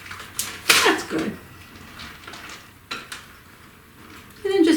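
Spoon mixing dark chocolate chips into thick pumpkin bread batter in a bowl, with a few soft scrapes and clinks against the bowl, separated by quieter moments.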